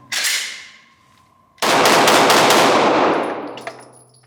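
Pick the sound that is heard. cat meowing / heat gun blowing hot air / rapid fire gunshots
rapid fire gunshots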